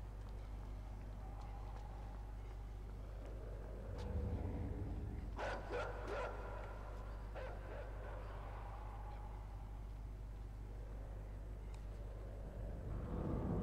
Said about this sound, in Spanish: Vale, ya empezamos con los perros